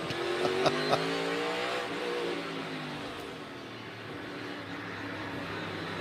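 NASCAR Next Gen race cars practicing at the LA Coliseum for the 2022 Busch Clash, a pack of engines droning and shifting pitch together, loud and continuous with a brief higher rev near the start.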